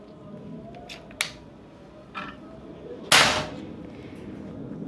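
A single sharp, loud crack from a Predator OD 38 V2 PCP air rifle firing, preceded by a few lighter mechanical clicks and followed by a brief decay, against a quiet background.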